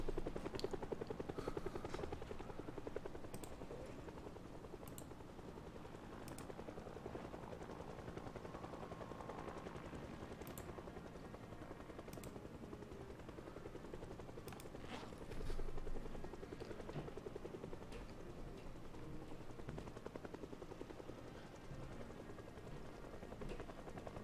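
A video game helicopter's rotor thumps in a steady, continuous drone, with faint bursts of gunfire scattered through it.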